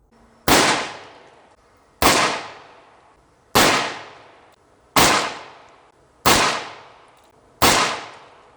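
A Colt Single Action Army 1873 revolver fires six loud, close shots at a slow, even pace, each a sharp crack that trails off into a short ringing decay, with no talking.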